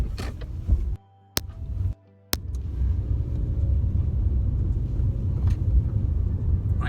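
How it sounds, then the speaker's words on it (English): A car driving at about 20 miles per hour during a driving lesson, a steady low road rumble inside the cabin after a few brief clicks and quiet gaps at the start. "the car's doing roughly 20 miles per hour, as it should be"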